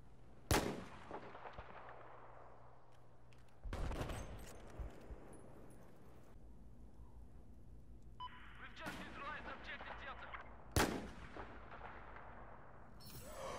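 Sniper rifle shots from the game Battlefield 4 ring out as four sharp, loud cracks spaced a few seconds apart, each trailing into a rumbling echo, with game ambience between.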